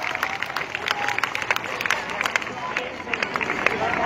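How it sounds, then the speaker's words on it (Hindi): Audience applauding children from the NCC at a school annual day event, a steady wash of clapping mixed with crowd babble and scattered cheers throughout. "जोरदार तालियां इन बच्चों के लिए।"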